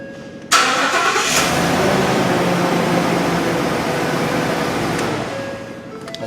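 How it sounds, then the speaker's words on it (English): A 2015 Ford Super Duty pickup's engine cranks and catches abruptly, then settles into a steady, loud, close idle that holds for several seconds before easing slightly. "Let's see if this key will start the vehicle now."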